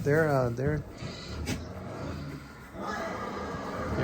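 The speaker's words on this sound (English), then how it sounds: "this is our first experience with baby goats" A baby goat in a barn lets out a short, wavering bleat at the start, followed by a steady, muffled barn background with rumbling noise.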